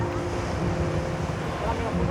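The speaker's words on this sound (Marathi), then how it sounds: "लाटा येतात मस्त हवा सुटले गार गार" Sea waves and wind on Om Beach in Gokarna, a continuous broad roar of surf and gusting air buffeting the microphone, steady and loud throughout.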